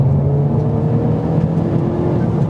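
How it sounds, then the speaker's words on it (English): Inside a 2020 Honda Civic Type R accelerating in comfort mode, a low, muted engine hum with a faint rising drone under road rumble, steady and quiet for a few seconds. "I'm gonna show you what it's like accelerating in comfort mode now."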